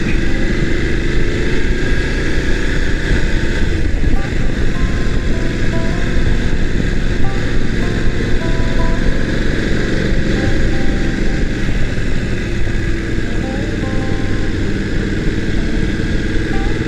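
A steady, loud motorcycle engine drone with a continuous low rumble that holds without pause throughout, the motorcycle climbing uphill at sustained revs.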